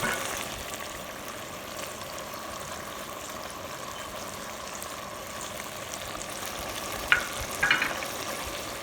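Okra with spices stirred in a clay pot during Pakistani village cooking: a steady, soft sizzle runs throughout, with a few brief scraping clicks of the spoon near the end and no talking.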